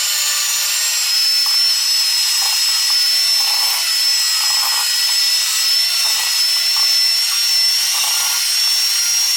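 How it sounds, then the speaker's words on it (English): A steady high-pitched whine from an electric hand mixer softening butter, running continuously at close range with slight shifts in pitch as the beaters work, no talking. "I'm going to be using my hand mixer, so I'm going to just use this to soften the butter a little bit"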